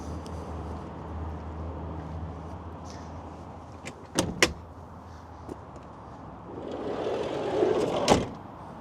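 Doors on a 1999 Toyota Hiace KZH106 diesel van are shut in turn, giving several sharp thuds and slams over faint background noise, with a sliding rumble near the end.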